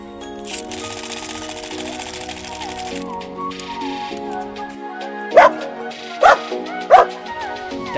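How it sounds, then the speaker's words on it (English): Toy dog gives three short, sharp barks near the end, heard over a steady electronic hum and melodic chiming from other battery-operated toys. "Dog."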